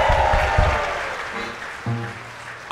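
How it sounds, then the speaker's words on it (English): Audience applause for a polka dancer on an outdoor festival stage, a short burst of clapping that fades as a voice and band sounds come in toward the end. "Give her a round of applause"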